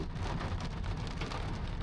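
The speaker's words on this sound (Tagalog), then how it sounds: "At inabot na kami ng ulan, kaming tatlo mga Katim Solid, 4 pala. Lakas pala agad na yun. Ang lakas ng iniulan oh." Heavy rain pours down steadily in a dense, unbroken hiss and patter, loud and close throughout with no pauses, and no voices over it.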